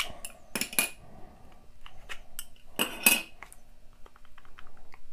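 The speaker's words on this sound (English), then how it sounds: "let's take these clamps off and see what it looks like" Metal clamps clinking and being pulled off a Buck knife sheath, with a few sharp clanks and scrapes, up close and alone.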